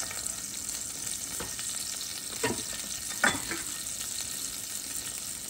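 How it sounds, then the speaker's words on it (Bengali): Whole cumin, bay leaves and ginger fry in hot oil as a quiet, continuous sizzle, broken by a few brief spoon taps or stirs, heard close but faint, with no speech. "এই আদাগুলো দিয়ে ফ্রাই করব"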